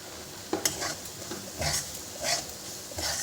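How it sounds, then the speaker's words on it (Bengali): Kachori dal filling seasoned with salt and turmeric fries in a pan, a soft continuous sizzle broken by several bursts of scraping and stirring, close and alone. "একটু ভালো করে ভাজবো আমি।"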